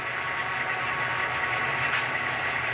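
Sustained whine of the dynamic brakes from an Athearn FP7 model locomotive's Tsunami sound decoder, a steady droning hum with low engine rumble beneath, unchanging throughout.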